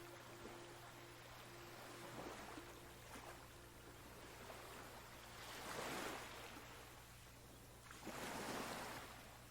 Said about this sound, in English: while the gentle waves help beach it on the shore.